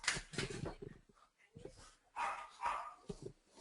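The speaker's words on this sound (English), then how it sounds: "My dog is barking its brains out right now." A dog barks at a salesperson at the door, with loud, repeated, nearby barks mixed with a person talking.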